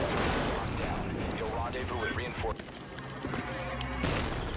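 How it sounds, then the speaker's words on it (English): An ATV blown up in the shooter game TimeShift, a loud sustained blast and rumble over roughly four seconds, with crackling debris, some music and a second burst near the end. "then blow up this ATV"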